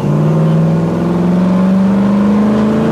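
A car accelerates with a loud, close engine note whose pitch rises steadily over a few seconds, heard on its own.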